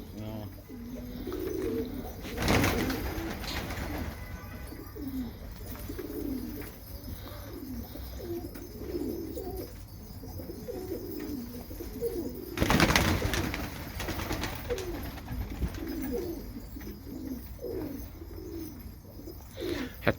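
Domestic pigeons of the Kashash fancier type coo in low, repeated throaty phrases throughout, fairly close and steady, with broadband bursts of handling or wind noise mixed in on a calm winter day.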